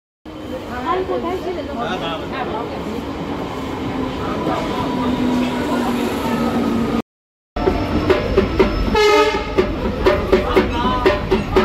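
From inside a moving passenger train, a loud, steady carriage rumble and rattle runs on, with a short cut in the middle and rhythmic clacking afterward, and faint voices in the background.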